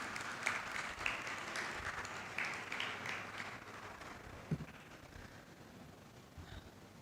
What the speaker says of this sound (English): So may we have a huge round of applause for Ms.